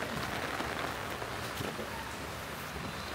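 Rain falls on a rooftop garden in a dense, even patter that stays steady and close throughout.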